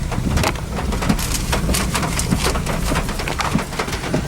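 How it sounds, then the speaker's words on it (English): Rain falls steadily outdoors on a forest trail near a clearing, a dense, even hiss with scattered patter and crackle throughout. "And it's raining."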